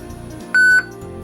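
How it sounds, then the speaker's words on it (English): A Uniden Bearcat BCT8 scanner gives a single loud, clean electronic beep from a button press, lasting about a quarter second over a quiet hum. "to listen to the button beeps"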